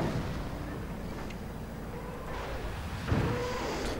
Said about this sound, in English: Now the Nebelwerfer adds in for the fun.